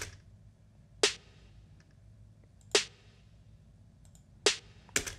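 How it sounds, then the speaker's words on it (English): Four sharp, crisp EQ-processed snare hits from a hip-hop beat, spaced about a second or more apart over a low, quiet background hum, each snap short and bright. "but then with it on, it sounds more snappy."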